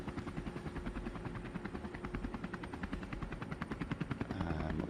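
A video game helicopter gives a loud, close, rapid rhythmic rotor chop throughout, with the beat steady and a denser engine roar swelling near the end.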